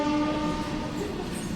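Train passing in front of a house near a railway station, with a loud sustained horn blast at the start over the rumble and rattle of rolling wagons, close by and steady throughout.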